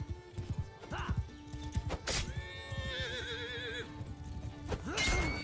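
Horses in a Mount & Blade Bannerlord battle, with loud whinnies and neighs over clip-clopping hooves and clashing combat noise, a busy near mix with a brief voice.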